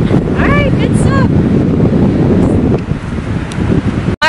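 Strong wind gusting across a beach, loud and steady with rushing buffeting against the microphone, a few short tonal squeaks and a brief break near the end.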